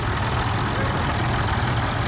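A vintage Massey Ferguson 35 tractor idles at an agricultural show parade, its engine giving a steady, continuous, close-up rumble that holds even throughout.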